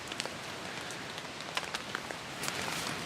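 Rain falling at night on camping gear near a bivy sack, a steady soft patter with scattered sharper drops striking nearby surfaces.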